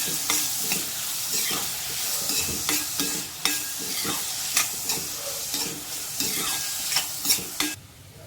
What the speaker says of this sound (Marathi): त्यात कांदा टाकूया कांदा हिरवी मिरची आणि कढीपत्ता टाकून परतून घेते मी